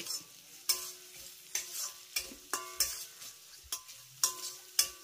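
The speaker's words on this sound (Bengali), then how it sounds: "এবার আমি এই সমস্ত উপকরণগুলো গরম তেলের ভিতরে দিয়ে দেবো। তারপর মিডিয়াম লো ফ্লেমে এটাকে একটু নেড়ে চেড়ে নেবো।" Thukpa vegetables fry in hot oil over a medium-low flame under a soft sizzle, with about eight crisp utensil strikes scraping the pan at a fairly regular pace.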